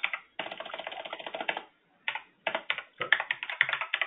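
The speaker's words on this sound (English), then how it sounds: "I apologize if my keyboard is too loud." Close, steady clatter of computer keys being typed in quick runs, with a brief pause midway.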